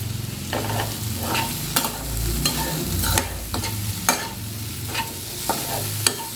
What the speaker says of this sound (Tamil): ஒரு 2 நிமிஷத்துக்கு அப்படியே கப்பியில் வச்சுட்டு நல்லா வறுத்துக்கலாம்.